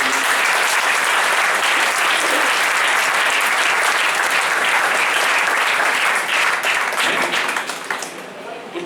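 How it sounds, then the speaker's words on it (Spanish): A church congregation claps loudly for Jesus Christ during a Spanish-language service, a dense, continuous roar of many hands at close range that tapers off near the end, with voices mixed in. "Dale palmas al Señor Jesucristo."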